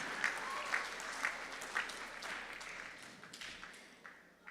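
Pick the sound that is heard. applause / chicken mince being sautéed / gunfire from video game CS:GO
applause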